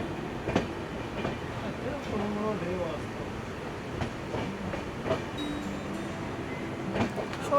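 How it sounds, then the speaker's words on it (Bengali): Amravati Express passenger train running along the Goa coast, a steady rumbling ride with faint rhythmic wheel clicks and rattles throughout, while voices talk intermittently over the moving carriage. "আর আমাদের ট্রেন এগিয়ে যাচ্ছে দেখো।"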